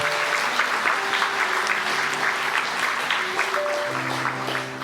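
Congregation applause at a church anniversary Sunday service, a sustained, dense clapping from the whole room with a steady level throughout, an organ or keyboard holding tones underneath.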